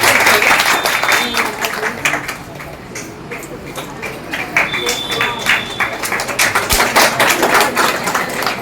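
A crowd claps rhythmically during a farewell and honour ceremony for a transferred CDPO in Singhiya while a bouquet is presented. The sharp claps are close and continue for several seconds, with a short dip in the middle.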